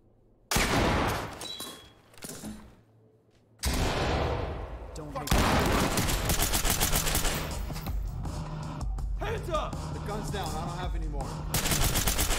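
Gunfire in the tactical shooter Ready or Not: a few sharp shots, a brief lull, then sustained rapid automatic fire with dense overlapping bursts, loud and close, with voices partly mixed in.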